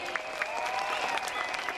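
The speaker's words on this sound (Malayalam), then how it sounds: "നല്ലൊരു കൈയടി കൊടുക്കുക" Audience applause fills a Malayalam Mappila-song stage show, a steady dense patter of clapping with a few sharper peaks, sustained tones of music underneath.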